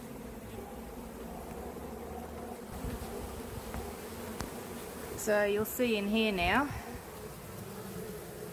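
Honeybees buzz faintly inside a wooden cabinet during a hive removal, a low steady hum with a brief louder wavering burst near the end, while someone speaks briefly over it.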